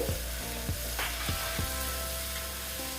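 Gathi kochu being stirred in a frying pan with turmeric and salt, a constant close hiss of frying with a few soft regular scraping knocks of the spoon against the pan, no talk.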